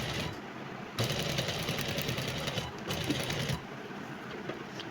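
A sewing machine stitching a dress seam runs in a steady fast whirring chatter, pausing briefly and restarting, with no talk over it.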